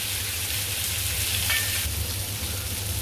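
Bangda mackerel frying in a pan over medium gas, a steady dense sizzle with crackling spits running continuously and fairly close, with no voices.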